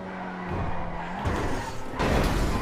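Invetero Coquette D10 sports car in a video game, a broad rushing drive sound at speed with tire and road noise and brief sharper surges, moderately loud with no voices.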